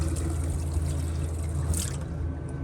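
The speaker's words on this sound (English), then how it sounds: "Because the water pump is turned on, you've got water" Water runs steadily from a mixer tap in a McLouis Tandy 640 motorhome, fed by the onboard water pump: a continuous close trickling pour with no voices.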